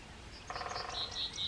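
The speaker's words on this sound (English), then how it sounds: "Gratitude to the birds." Faint, high bird chirps repeat quickly over a soft outdoor hush in a peace garden, a short run of thin tweets at a distance.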